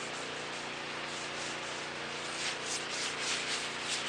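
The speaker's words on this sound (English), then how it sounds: "I'm just going to take that grease and basically coat this whole griddle." Grease being rubbed and spread across the surface of a griddle made for a Weber grill, a steady close scuffing and wiping texture that continues without pause and grows slightly stronger toward the end, with no talking.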